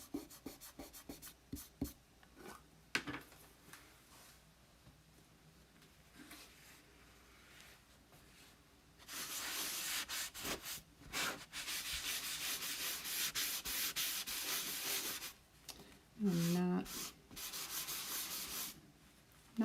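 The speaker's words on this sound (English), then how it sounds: "I am going to go ahead and wax this" Wax is rubbed onto a Chalk Couture craft piece, starting with scattered light scrapes and taps, then a long steady scrubbing rub that grows louder, with brief pauses between strokes.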